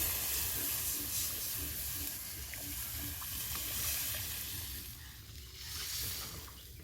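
Water added to frying spices and potatoes in a pot at an outdoor Sundarbans picnic gives off a soft, steady sizzling hiss that swells and fades slightly, with no speech.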